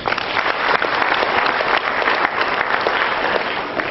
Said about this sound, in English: To our vice chairman, Dr. Reza Arafor. Round of applause, please.